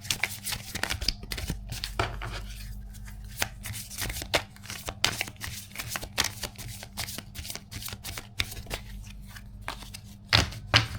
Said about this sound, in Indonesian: Ya, sekarang kita kocok.